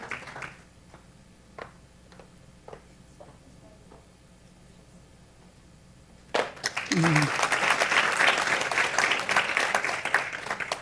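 Applause bursts out for a scholarship award recipient at a 2022 award ceremony, loud and sustained clapping from an audience that begins after a few sparse claps and runs to the end.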